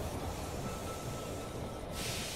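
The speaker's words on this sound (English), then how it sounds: "The train has arrived at the station." A steady, dense rumble and hiss of a train arriving at a station in the game They Are Billions, continuous and fairly faint throughout, with a brief shift in the high hiss near the end.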